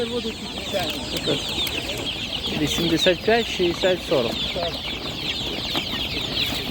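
Chicks and chickens peep and cluck densely at an outdoor animal market in Nadvirna, a steady chorus of high chirps with voices talking nearby over it.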